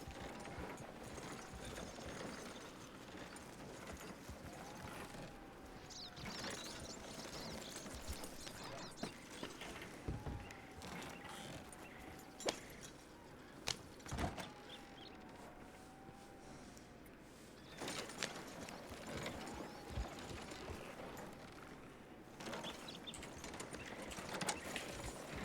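Horse-drawn buggy in Red Dead Redemption 2 roleplay, hooves clip-clopping steadily under creaking, rattling wheels and harness, with occasional sharper knocks; continuous moderate level with faint background tones.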